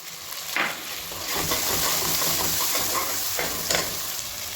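Onions with garlic-ginger paste and tomatoes fry steadily in a pan for a goat trotter paya curry, a continuous close sizzle broken by a few stirring scrapes, with no talk.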